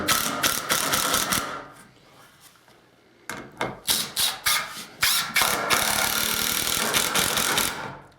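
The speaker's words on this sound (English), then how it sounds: "we'll stack these 2x6ers up, effectively making it thicker, which will be harder to drive these screws through" A Ridgid 18V drill drives screws through stacked 2x6 boards in two bursts of loud, close grinding and ratcheting, separated by a quiet pause, with rough rhythmic pulses as the screw bites into the thick wood.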